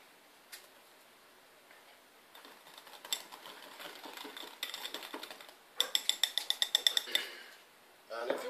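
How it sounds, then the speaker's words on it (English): A whisk clicks against a bowl while a simple dressing with Tabasco is mixed, in quick ticking bursts that grow into a steady, fast rhythm of close metallic taps, with background kitchen noise. "you're going to take your whisk and just whisk them all together"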